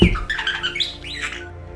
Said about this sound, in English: And this is the sound that a bird makes.